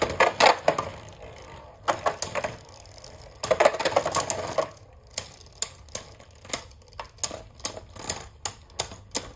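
Metal Beyblade tops such as Master Diabolos Generate and Dread Bahamut clash in a stadium, giving sharp clacking hits, first in dense bursts and then as regular evenly spaced clicks.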